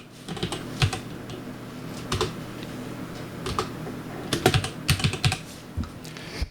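Keys clatter on a computer keyboard as a store name is entered for a data storage demo, with short bursts of clicks over several seconds, close and moderately loud.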